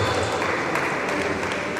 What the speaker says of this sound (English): Please a round of applause for the president.